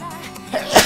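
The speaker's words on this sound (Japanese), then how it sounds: "あ、ごめんなさい、くしゃみが。" A single sneeze from a person, a quick sharp burst rising out of a low murmur at the end, close and fairly loud.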